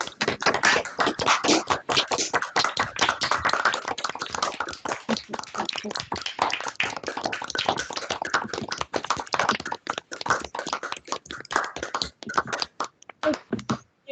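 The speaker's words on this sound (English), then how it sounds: "just give the team a round of applause" Participants in a virtual meeting clap over their microphones, producing dense, uneven clapping from many hands that thins into scattered, separate claps toward the end.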